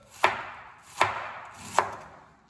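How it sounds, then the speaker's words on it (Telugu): Three evenly spaced knife chops through cabbage on a board, each a sharp close thud with a short decay, about three-quarters of a second apart, with no voices. "సన్నగా తరుక్కోవాలి"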